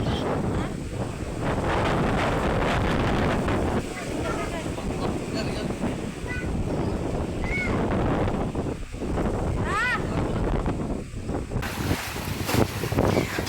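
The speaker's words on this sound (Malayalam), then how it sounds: "ഞാൻ പറയുമ്പോൾ തന്നെ കാറ്റിൻ്റെ ശബ്ദമാണ്" Strong wind roars and buffets steadily over a broad rushing noise during a rainstorm, with river water churning beneath it, loud and continuous throughout.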